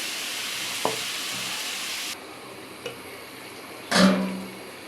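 Hilsa fish fries lightly in a pan, giving a low, steady sizzle broken by a few sharp utensil taps and one louder scrape near the end.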